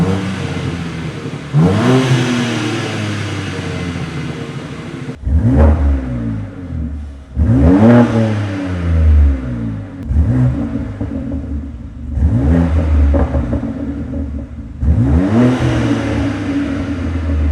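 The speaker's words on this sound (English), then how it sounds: "the Remus axle back, and yeah, it sounds absolutely insane" A BMW G87 M2 fitted with a Remus axle-back exhaust revs hard in about six sharp bursts, each rising quickly and falling away. The exhaust is loud and close, with brief pauses between throttle blips.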